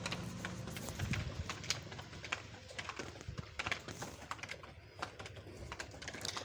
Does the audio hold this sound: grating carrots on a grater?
yes